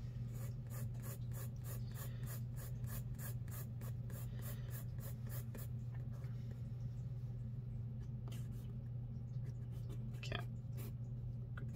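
A Kakimori brass nib loaded with Platinum Carbon ink scratches across paper in fast, even, rhythmic strokes, then slower, scattered marks, all over a steady low background hum.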